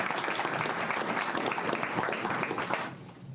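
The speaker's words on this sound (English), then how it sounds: "let's give Magnus a big applause" Audience applause at a science park update event, a steady dense patter of many hands clapping for about three seconds before tapering off at the end.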